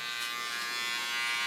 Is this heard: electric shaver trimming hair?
yes